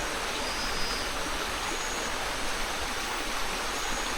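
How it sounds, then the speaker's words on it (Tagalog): A river flows in a steady, broadband rush of running water, a continuous even hiss with no breaks and no voices over it. "May ilog din."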